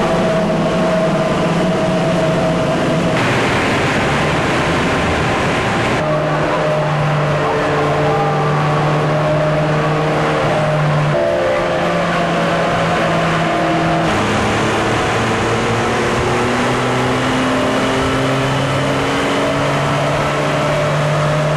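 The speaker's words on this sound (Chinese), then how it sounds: "车子要在这上面全力加速跑道，快200公里耶！" A car on a chassis dynamometer accelerating hard toward nearly 200 km/h, loud sustained engine drone climbing in pitch through repeated gear shifts, each shift dropping the tone before it rises again, with no talk.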